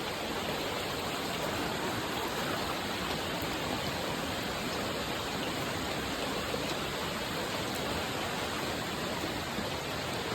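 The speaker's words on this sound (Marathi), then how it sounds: "पाणी बघा एवढा मोठा येतं वाघरीवाडीतून" A heavy monsoon stream rushes down from tall hills in Konkan, a dense, steady roar of flowing water filling the whole stretch without pause, loud and close.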